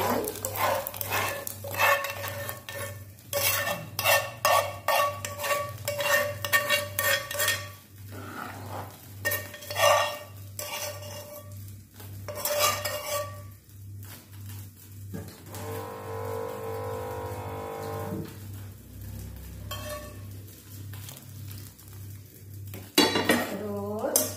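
Pots and utensils clatter and scrape repeatedly as seasoning is stirred into a pot of hot water for Balinese-style sea fish soup in a home kitchen, with a low steady hum underneath and no talking.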